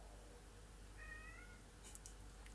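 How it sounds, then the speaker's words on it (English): A pet cat gives a single short, faint meow in a quiet room, followed by a small soft click. "Just meowing away for no reason."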